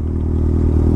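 Motorcycles ride up close from behind on a street. A steady, low engine drone sounds for a brief moment.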